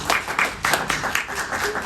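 A brief burst of audience applause at a gathering, with several individual claps audible within a moderate, close wash of clapping.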